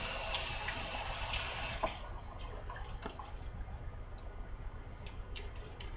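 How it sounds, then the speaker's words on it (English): Water from a kitchen sink tap runs steadily for about two seconds during hand washing, then stops, leaving faint drips and small ticking clinks at low volume. "I am going to wash my hands off really quick"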